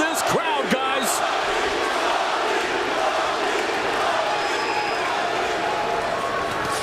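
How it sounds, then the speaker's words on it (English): A large arena crowd at a 2007 Strikeforce mixed martial arts event at HP Pavilion in San Jose roars continuously, a dense, loud wash of cheering with a commentator talking over it. "Listen to this crowd, guys."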